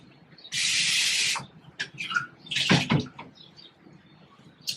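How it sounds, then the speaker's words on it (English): Pineapple juice poured into a glass mason jar at breakfast, a steady rushing hiss for just under a second, followed by quieter clinks, trickles and handling sounds. "I know I'm gonna pour me some pineapple juice"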